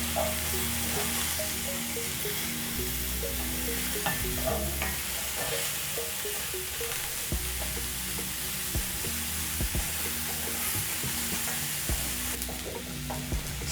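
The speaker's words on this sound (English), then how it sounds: "I'm going to be adding my button mushrooms in my skillet. And you're going to fry these on medium heat." Button mushrooms frying in a skillet over medium heat, giving a steady close sizzle with occasional stirring clinks and scrapes throughout, and no talking.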